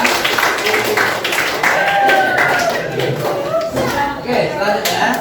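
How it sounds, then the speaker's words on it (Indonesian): A group of people, likely children in a classroom, clapping together for a few seconds, rapid and fairly loud, while voices talk and call out over the claps. "tepuk tangan kita semua"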